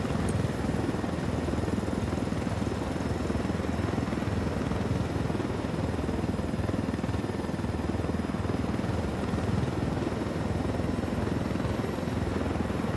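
Helicopter in the video game Ghost Recon Wildlands, a steady, loud rotor and engine drone holding even throughout with no talk over it.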